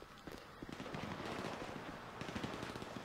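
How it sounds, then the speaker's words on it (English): Enemy gunfire in Grand Theft Auto 5 rattles in continuous fast automatic bursts, loud and dense throughout with no talking. "They're shooting, though."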